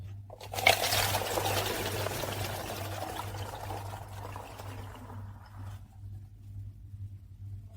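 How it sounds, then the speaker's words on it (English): Homemade fermented pineapple tepache is strained through a sieve and poured. A soft, continuous splashing trickle starts with a brief clunk, runs steadily for several seconds, then fades out. A low electrical hum sits under it. "We'll strain it through a sieve."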